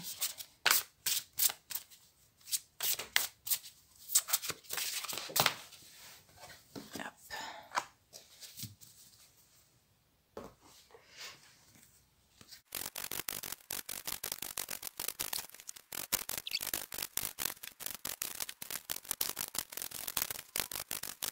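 Oracle cards shuffled by hand, a rapid run of soft papery flicks and riffles, first intermittent with quiet gaps and murmuring, then a dense continuous shuffle, close and fairly quiet.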